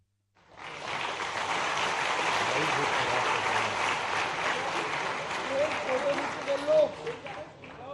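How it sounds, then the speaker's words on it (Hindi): Sustained applause from a crowd at an orientation ceremony honoring a dignitary, steady and fairly distant, with a few faint voices emerging near the end. "जोरदार तालियों से।"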